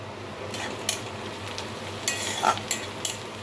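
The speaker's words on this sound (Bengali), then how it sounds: "এবার দিয়ে দেব দুটো তেজপাতা গোটা গরম মশলা" Two bay leaves and whole garam masala hit hot oil and fry with a soft, continuous sizzle. A few light clinks and stirring scrapes punctuate it, and nobody speaks.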